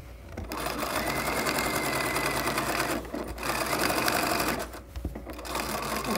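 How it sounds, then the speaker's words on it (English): Sewing machine stitching a pillowcase, back over the original stitches: a close, loud, fast mechanical whir that runs steadily in three stretches, broken by brief pauses. "And I'm just stitching back in my old stitches"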